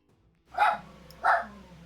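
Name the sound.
dogs barking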